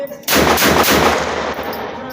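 Rapid string of gunshots from a Phoenix Arms HP22A .22 pistol firing CCI Mini-Mag ammunition as a magazine is emptied, loud close cracks in quick succession with a short quiet lead-in.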